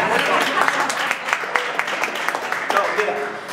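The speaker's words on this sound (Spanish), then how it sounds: "Ya, un aplauso, ya." A crowd applauding with dense, steady clapping, mixed with overlapping voices in a busy room.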